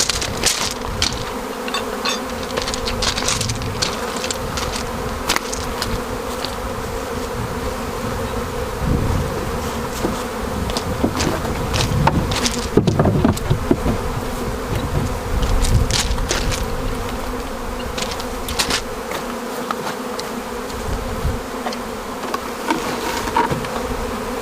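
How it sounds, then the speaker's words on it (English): Honeybees shaken out of their original hive box during a spring hive transfer form a dense, continuous buzzing swarm close by, with no voices present. "I shake all of the remaining bees out of the original box."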